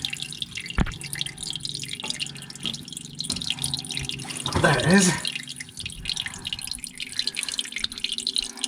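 Muddy water drips and then gushes from the squeezed air-conditioning overflow drain of a Vauxhall Corsa C, a brief trickling splash near the middle over steady background noise, with someone speaking briefly.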